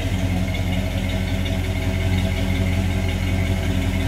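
A big 390 V8 engine in a 1966 Ford Fairlane GTA idles steadily and loudly up close, with a deep rumbling, even throb and no talking.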